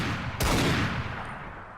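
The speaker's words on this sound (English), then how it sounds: "Don't want to talk over the gunshots. Trying to show off what they sound like when they fire." A single sharp, loud report from a modded gun in Fallout 4 on Xbox bursts out suddenly and then rings into a long echoing decay, with no talking over it.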